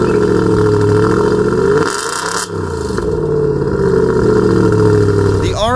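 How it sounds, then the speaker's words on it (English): A 450-horsepower naturally aspirated V8 in an Audi RS5 revs through a modified aftermarket exhaust, giving a loud, close engine drone whose pitch sags and climbs again, with a brief scrape-like burst partway through. "the exhaust that we have on this car is modified. It is not the original exhaust,"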